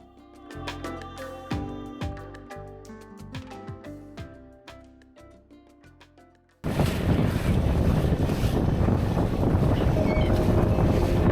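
After a stretch of plucked, melodic music, a loud steady engine drone and rushing water take over as a motorboat carrying a tour group moves across Chilika Lake.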